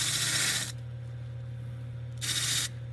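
A rotary wire wheel cleaning up the ear cartilage of a hide, heard as two loud bursts of high-pitched scrubbing hiss with a steady motor hum running between them.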